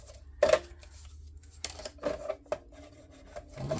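A paper pocket for a Halloween craft album being burnished with a tool, giving soft rubbing and scraping strokes in short, uneven bursts, close and quiet, with a few sharper taps.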